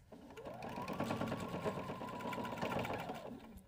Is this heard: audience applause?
no